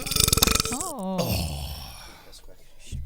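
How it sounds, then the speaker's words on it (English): A long, loud, gurgling human belch rolls out after a brief rumbling lead-in, its pitch sliding down before it trails off into quiet. "She played Guess My Burp."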